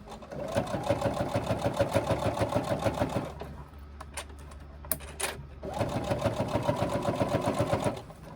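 A sewing machine stitches the hem of a crossbody bag in two steady, rapid runs, with a pause in the middle filled with a few sharp clicks and handling noises.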